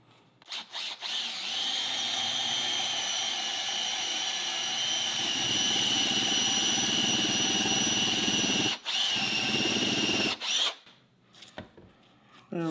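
A power drill with a one-inch hole bit bores into wood, a close, loud, sustained whine and grind lasting about nine seconds, with brief starts before and clattering stops after.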